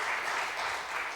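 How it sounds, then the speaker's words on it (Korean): Congregation clapping together in a church service, a brief soft and even wash of many hands applauding, somewhat distant and muffled. "다 같이 박수하겠습니다."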